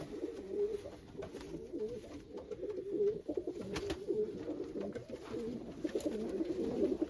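Pigeons coo continuously in a coop, a steady low murmur of overlapping calls with faint rustling and a few light clicks.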